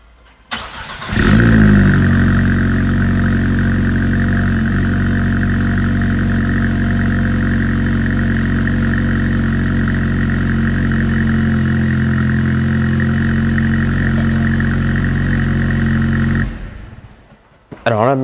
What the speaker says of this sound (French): Tu nous fais entendre un démarrage?